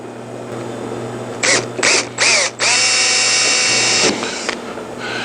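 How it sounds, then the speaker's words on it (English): A power drill works on a Piper Super Cub leading-edge wing skin in a few short whirring bursts, then one longer run with a rising whine, all close and loud over a low background hum. "to drill new holes here"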